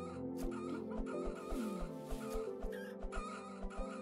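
Chickens cluck in the video game Planet Centauri, a flock of short repeated clucks over a looping music track, moderately loud with no talk.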